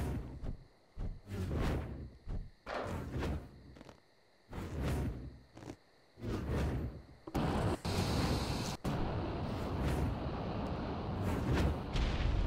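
Grenades launching and exploding in a video game, a series of whooshing blasts and rumbling bursts at irregular intervals, ending in denser, sustained explosive noise.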